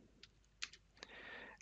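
Keys on a computer keyboard are tapped a few times, sparse soft clicks followed by a brief faint burst of quicker typing, close and quiet.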